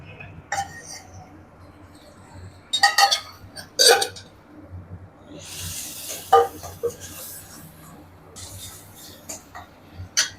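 Beetroot fry being sautéed with turmeric and chili powder in a pan, heard as scattered clinks and scrapes of a spoon against the pan with a soft rubbing stir in between, fairly close and moderate in level, with no voices.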